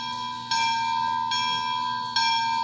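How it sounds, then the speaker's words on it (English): Bell of a Bachmann K4s streamlined HO-scale model steam locomotive, a sustained ringing tone struck again at steady intervals, three clangs in all, each fading slowly, nearby and alone. "So going back to sounds, got F1, which is the bell."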